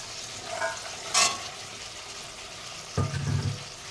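Green peas hit a spiced cabbage masala in a pan, with a soft frying hiss underneath, a brief bright burst early on and a louder thump and surge of sizzling toward the end, with no speech.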